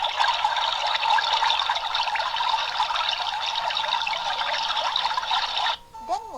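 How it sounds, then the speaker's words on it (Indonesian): Flowing water gives a steady rushing, trickling wash that holds evenly for several seconds and then stops abruptly, followed by a brief tonal sound. "suara air mengalir"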